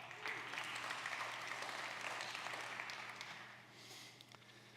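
A DevOps conference audience breaks into applause for first-time attendees, a full room of clapping that holds steady then thins toward the end over a low steady hum from the hall.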